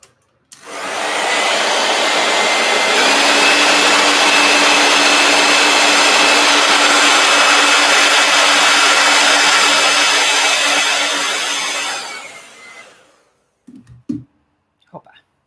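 A heat gun blowing hot air gives a loud, steady whooshing roar close by for about twelve seconds, then fades out, followed by a few brief knocks.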